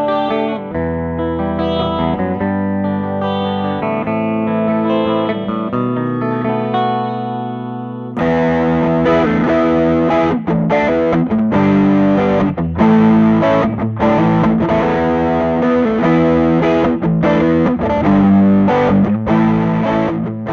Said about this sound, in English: I'm going to show you what it sounds like using a hand-wired tube screamer